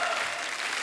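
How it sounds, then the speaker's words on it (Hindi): A studio audience at a comedy talk show applauds loudly to welcome arriving guests, a dense, brief burst of clapping. "जोरदार तालियों के बीच please welcome mister Saurabh Shukla and Supriya Shukla ji."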